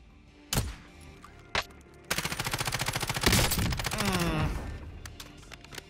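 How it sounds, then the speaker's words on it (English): Gunfire from a player shooting into the air in Warzone: two single loud shots, then long rapid automatic bursts with a rattling rhythm, close and dominant, fading at the end. "I'm just seeing him shoot in the air"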